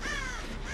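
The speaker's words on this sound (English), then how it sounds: "Fuck you, Crows" A crow caws once in a video game, a short, harsh, close call heard alone.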